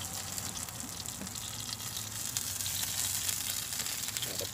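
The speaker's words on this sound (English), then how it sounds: "Can you hear that sizzle on camera?" Chicken sizzles on a BBQ grill at a barbecue trailer, a steady crackling hiss with a low background hum, close and continuous, with no talk over it.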